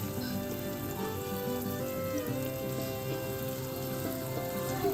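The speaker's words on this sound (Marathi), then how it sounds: "कांदा टाकल्यावरच मी याच्यामध्ये थोडंसं मीठ टाकणार आहे, जेणेकरून तो पटकन भाजला जाईल" Sliced onion with a little salt fries in a pan, giving a steady, even sizzle throughout with no voices.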